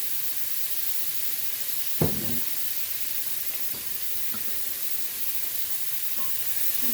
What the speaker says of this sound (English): Oh, listen to them simmer. Love that sound.